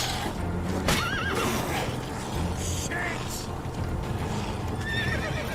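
A horse whinnies loudly in The Witcher 3, with hoof clip-clop and game ambience continuing underneath and a later, fainter whinny near the end; someone talks over part of it.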